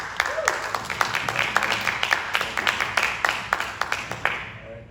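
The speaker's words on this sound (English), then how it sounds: "We'll give him a round of applause" A round of applause from an audience at an inaugural event, distinct claps building into a steady ovation with a voice briefly heard near the start.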